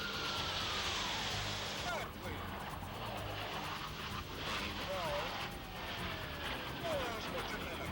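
An F/A-18 Hornet fighter jet flown solo at an air show climbs steeply under 32,000 pounds of thrust, a loud, continuous roaring jet rumble with a shifting whine, heard at a distance and unbroken across the whole stretch.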